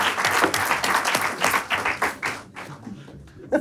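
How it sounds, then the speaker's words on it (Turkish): Studio audience applause on a late-night talk show, a loud burst of dense clapping that thins into a few scattered claps and fades out near the end. "Alkışlayalım hanımefendiyi"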